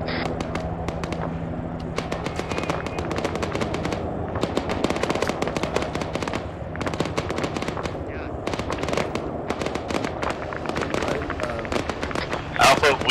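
Rapid bursts of automatic gunfire from an infantry fire team in the ArmA 3 military game, with dense repeated shots rattling nearly nonstop at close range alongside radio-style voice chatter.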